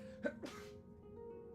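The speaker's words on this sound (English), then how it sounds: "I have to sneeze." A single quick sneeze, sharp and close, with a brief breathy burst followed by a short second exhale, then quiet.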